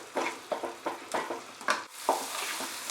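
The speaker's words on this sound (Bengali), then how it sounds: "আদা রসুনটাকে ফ্রাই করে নিচ্ছি।" Ginger and garlic fry over a medium flame in a kadai for chicken, with a steady sizzle broken by repeated scraping stirs of a spatula. It is close and moderately loud, and no one speaks.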